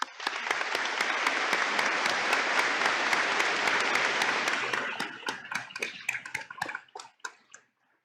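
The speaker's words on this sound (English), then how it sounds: "giving them a round of applause" Sustained crowd applause at a high school graduation commencement, a thick continuous roar of many hands that thins after a few seconds into scattered individual claps before dying out.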